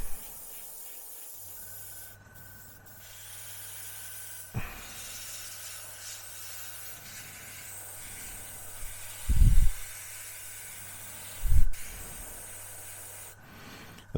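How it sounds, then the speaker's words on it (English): An airbrush sprays paint onto the road wheels of a Tamiya M1A2 Abrams scale model tank. It gives a soft, steady hiss at close range, broken by a few short louder bursts and taps, and no one speaks. "it's the quickest and easiest way of spraying your road wheels"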